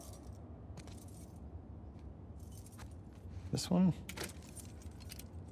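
Keys jangle in a burst partway through as a character tries keys in The Last of Us Part II, set over a low ambient hum, with brief speech nearby.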